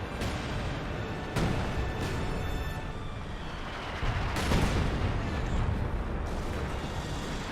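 Artillery strike landing on Grenadier infantry in Company of Heroes 2, with heavy booming impacts breaking through a dense, continuous rumble of battle noise, two prominent blasts standing out against sustained background fire.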